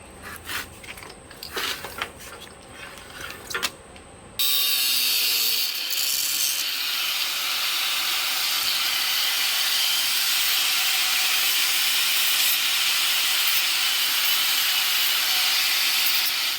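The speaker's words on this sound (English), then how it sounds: "you'll have to take a cutoff wheel because this thing's got cables in it, steel cables" A cutoff wheel grinds through a steel-cabled emergency brake cable sheath for a 1976 Ford Bronco, a loud, steady abrasive whine running for about twelve seconds after a few quieter handling noises.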